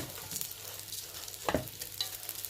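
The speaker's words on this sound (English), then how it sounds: "So basically just stir it, bring the bottom ones to the top" Vermicelli (semiya) fries in a pan while being stirred to brown evenly, a steady close sizzle with scraping stir strokes and a sharper clatter midway, no talking.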